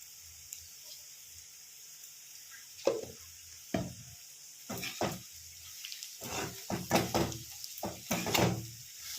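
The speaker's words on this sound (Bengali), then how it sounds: "এবার এরকমভাবে আবার খানিকক্ষণ আমি ভেজে নিয়ে ফিরে আসছি" Snake gourd (chichinga) fries in a pan with a steady low sizzle, broken by spatula scrapes and clattering stirs that grow busier toward the end.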